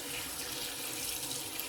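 Cold tap water runs from a faucet in a steady, close hiss while fresh coriander leaves are rinsed under the stream. There is no talking.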